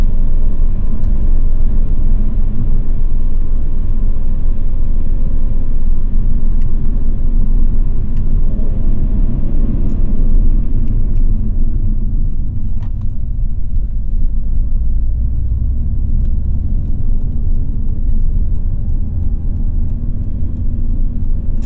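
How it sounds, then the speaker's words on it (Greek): Inside a car with a Selespeed automated manual gearbox, a manual downshift with rev matching: loud, steady engine and road rumble fills the cabin, with a brief rise in engine pitch partway through before the drone settles again. "Τώρα κατέβασα εγώ ταχύτητα χειροκίνητα για να δείξω λιγάκι το rev matching πιο έντονα."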